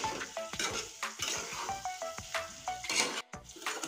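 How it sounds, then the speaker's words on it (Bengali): Potatoes and spices sauté in a pan for a jackfruit-and-potato dish, with soft sizzling under repeated scraping and clinking of a spatula against the pan at an irregular stirring rhythm, close and fairly quiet. "মশলা আলু একসঙ্গে আমি কষিয়ে নিব আলু সুন্দর করে।"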